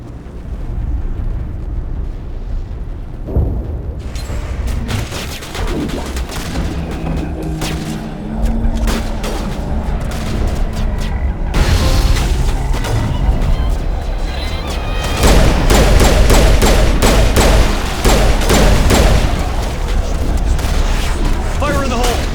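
Gas grenade explosions and gunfire in Mass Effect 1, Legendary Edition on PS5: continuous loud booms and rapid bursts of shots from a close battle, with voices talking through the din.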